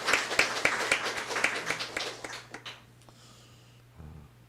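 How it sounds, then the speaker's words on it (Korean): A church congregation claps together in steady applause that fades after a few seconds, leaving near quiet with a brief soft thump at the end. "우리 다시 한번 찬양해 주신 우리 어머니들께 감사와 격려의 박수 하겠습니다."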